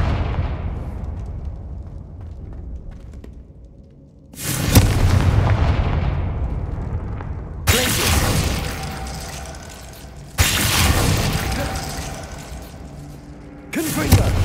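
Confringo fire spell blasts in Hogwarts Legacy: four loud, booming explosions a few seconds apart, each hitting hard and fading into a low rumble before the next.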